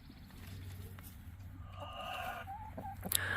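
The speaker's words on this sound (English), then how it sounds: "y'all hear Henrietta in there, upset?" An upset Wyandotte hen named Henrietta squawks and clucks from inside a coop, faint and somewhat distant, in a few short bursts over low steady background hum.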